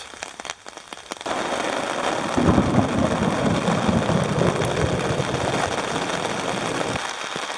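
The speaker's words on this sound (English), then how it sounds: "Found myself setting up the tent in the most incredible thunderstorm." A thunderstorm hits a campsite in the Netherlands, with heavy rain hammering the surroundings in a loud, continuous roar and a low rumble underneath, starting softer before the downpour swells up.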